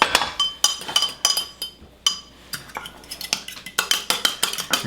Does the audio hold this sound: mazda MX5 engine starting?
no